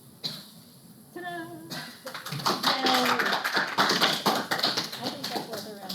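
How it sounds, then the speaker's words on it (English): A lecture class breaks into scattered, quick hand clapping that grows fuller after a moment of talk, with voices murmuring through the applause in a small room. "I think that's worth a round of applause"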